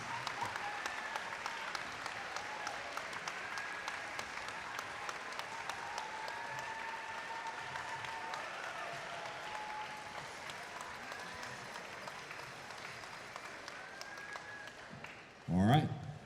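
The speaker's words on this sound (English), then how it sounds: "give the biggest round of applause that you can give for these mentors and coaches." A large audience at a district robotics championship claps in sustained, dense applause for mentors and coaches, steady and moderately distant, with a short louder burst near the end.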